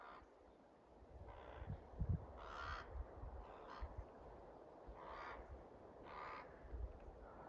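Young ravens squawk from a nest in a tree hollow along a mountain trail, giving repeated harsh, raspy calls in short bursts at a steady rhythm, faint and distant, with no talking.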